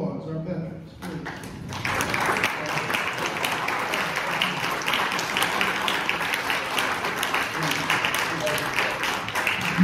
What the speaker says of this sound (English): I ask you all to stand up for a round of applause, our veterans